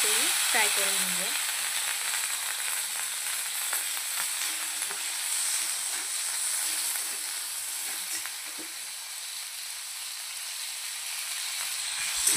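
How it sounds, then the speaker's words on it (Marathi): Capsicum frying in the same hot oil used for paneer, a continuous loud hiss and sizzle holding steady throughout, close up with no talk. "आता त्याच ऑइलमध्ये आपण शिमला मिरची फ्राय करून घेऊया।"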